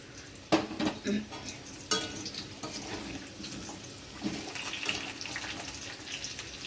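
A spoon stirring cumin and chilli powder into a little water in a bowl, soft intermittent clinks and scrapes close by, with a few sharper knocks early on over a quiet background.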